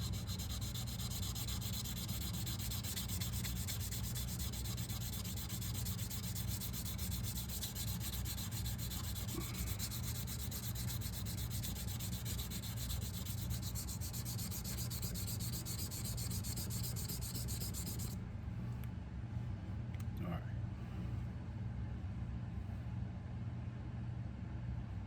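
A pitted Imperial Frontier knife blade is rubbed steadily with 600 grit sandpaper in a continuous close scratching hiss that runs for about twenty seconds, then gives way to a quieter background.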